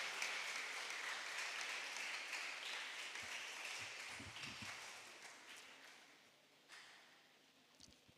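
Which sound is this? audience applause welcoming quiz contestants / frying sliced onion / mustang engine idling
audience applause welcoming quiz contestants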